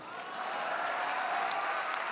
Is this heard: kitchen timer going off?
no